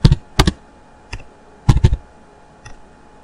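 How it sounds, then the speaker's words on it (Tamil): Typing on a laptop keyboard: sharp, close key clicks arrive in small clusters separated by short pauses, loud and clear against a quiet background with no talking. "இப்போ நான் இங்கிலீஷில் வந்து அம்மான்னு டைப் பண்ணிவிட்டு கீழே பாருங்கள்"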